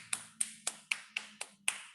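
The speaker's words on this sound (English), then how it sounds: "applause to the video clip" Hands clap eight times in a quick, steady rhythm, close and crisp, like brief applause from a single person.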